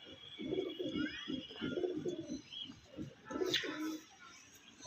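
Main line pigeons coo close by in soft, repeated throaty phrases, with a few faint chirps and light rustling mixed in.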